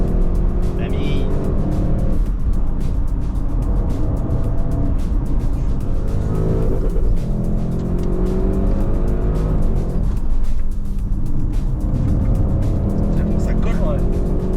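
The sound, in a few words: Audi RS6 car engine running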